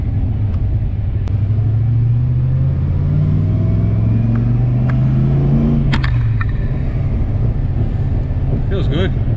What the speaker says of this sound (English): I don't know if you can hear on camera the burbles coming from the V8, the exhaust, the V8 burbles.